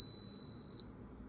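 A Fujifilm FinePix J38 digital camera in self-timer mode gives a steady high electronic beep that ends in a brief brighter chirp, faint and close, then quiet room tone follows.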